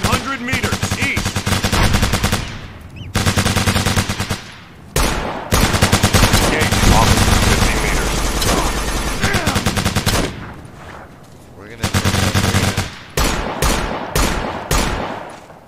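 Machine gun fire in Operation Flashpoint: Dragon Rising comes in loud, close, sustained bursts separated by brief pauses, with some voices partly under the shooting.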